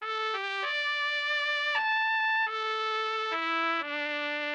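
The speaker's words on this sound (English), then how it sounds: "Trumpet." A brassy, slightly nasal Mellotron M4000D trumpet sample plays a slow run of sustained notes, stepping between pitches, steady and fairly loud with no voices.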